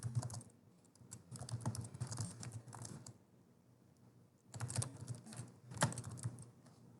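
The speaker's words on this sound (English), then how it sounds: "So let me type something." Typing on a computer keyboard: two bursts of quick, uneven key clicks separated by a short lull, close and moderately quiet, with no talk.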